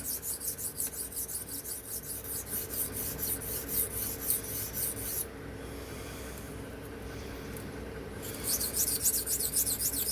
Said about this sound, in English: we'll go from this 120 to this stone here, this green silicone carbide